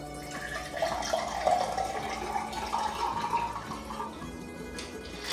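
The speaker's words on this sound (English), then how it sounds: "we're going to pour it into this beautiful glass mug" A mastic mule cocktail pours steadily into a glass mug, a continuous gurgling splash lasting several seconds, fairly close.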